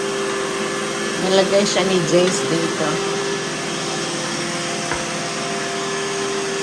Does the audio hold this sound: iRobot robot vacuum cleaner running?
yes